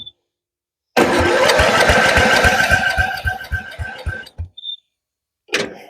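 Forgotten, long-neglected Ford LT-11 lawn tractor with a worn carburetor cranks in a rapid rhythmic chug for about three seconds, catches and fires unevenly, then sputters out; close and loud, a brief further burst at the end.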